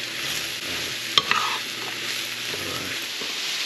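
Mushrooms fry in a pan with a steady, close hiss and sizzle, broken by a sharp utensil clink and some scraping as they are stirred, with no talking.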